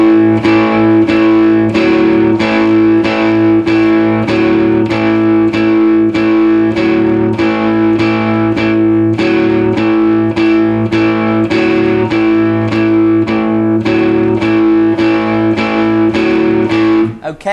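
Four bars of a song played on strings, a steady loud riff with evenly repeating plucked notes over a sustained low tone, filling the clip with no talk.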